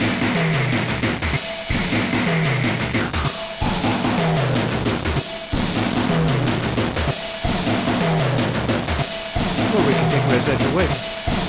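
Airwindows YNotNotch notch filter shaped by ResEdge, giving a loud, dense, distorted and strange processed tone that pulses with brief dropouts roughly every two seconds, with no talking.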